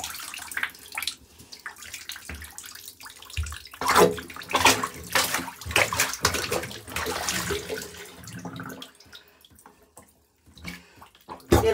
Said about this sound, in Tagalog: Hihintayin na lang po muna natin na mag-drain ulit yung tubig